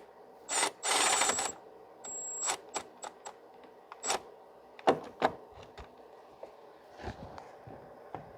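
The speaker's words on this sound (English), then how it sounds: "So we're just going to snug the bolts for now," Bolts being snugged on the coolant water outlet housing of a 2006 Mazda 3 2.3: a series of close, sharp metallic ratchet bursts and clicks at an irregular pace, with quiet gaps between and no speech.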